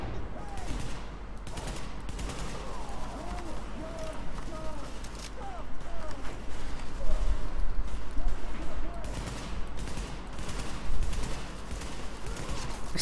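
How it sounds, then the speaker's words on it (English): Gunfire from the video game The Division, scattered shots and bursts running throughout a steady in-game background, moderately loud with some louder stretches; a voice talks over parts of it. "Just shot him over your shoulder."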